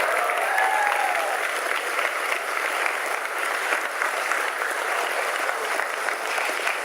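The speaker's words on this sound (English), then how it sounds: "the loudest claps are for Dato' Sri Niza" Audience applause at a political speech, steady sustained clapping from a crowd lasting several seconds.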